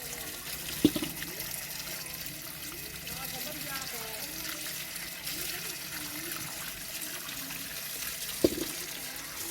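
Open water running over vegetables in a village washing area, a faint, steady flow with light splashing, joined by a couple of brief knocks and quiet talking.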